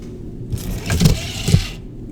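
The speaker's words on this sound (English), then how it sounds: "this should cause the motor to run in reverse, causing it to move the car forward" Arduino robot car motor running in reverse: a short whirring, rattling buzz lasting just over a second, close by, with small clunks, starting and stopping abruptly.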